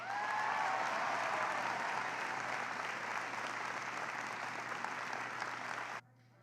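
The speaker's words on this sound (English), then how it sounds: "can everybody give a huge round of applause for Tina Long" Loud, sustained applause from a crowd at a political event honoring Harry Reid, steady dense clapping that runs for about six seconds and then cuts off abruptly.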